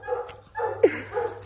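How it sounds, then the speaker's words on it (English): Beagles in a yard giving short barks and yips mixed with whimpers, two or three quick vocal bursts at close range over a low background hum. "Settle down, beagles."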